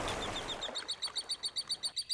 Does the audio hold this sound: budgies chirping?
yes